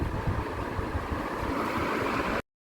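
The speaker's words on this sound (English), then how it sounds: "Now add the water from the cooked chole." Water from cooked chickpeas (chole) poured into a simmering gravy makes a steady, rushing splash that runs unbroken for over two seconds and then stops abruptly.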